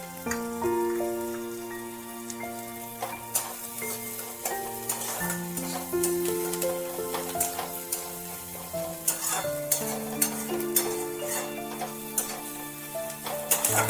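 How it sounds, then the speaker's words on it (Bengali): Curry leaves fry and are stirred in a pan for a Kasuri methi bora curry, a close soft sizzle with repeated spoon scrapes and taps, while steady tonal background music plays beneath. "একটু ভাজা ভাজা হয়ে এলে বাকি যে কারি পাতাগুলো ছিল আমি দিয়ে দিচ্ছি"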